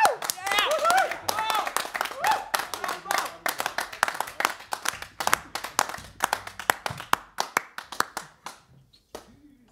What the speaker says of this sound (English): This is our last applause for you guys out there